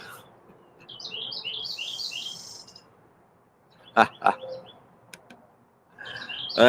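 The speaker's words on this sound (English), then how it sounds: "we got birds, we got trains, we got traffic" Bright bird chirps flutter in quick bursts outdoors, with a couple of sharper calls midway and another chirping flurry at the end over quiet background.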